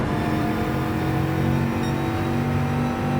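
A Bugatti in Gran Turismo 4 holds a steady, droning engine note under hard throttle, with dense, continuous harmonic whine and no pauses.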